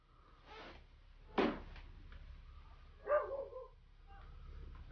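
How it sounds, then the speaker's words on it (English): Dogs bark in a few faint, short bursts spaced apart in a quiet indoor setting, with soft background rumble between them. "Dogs are barking."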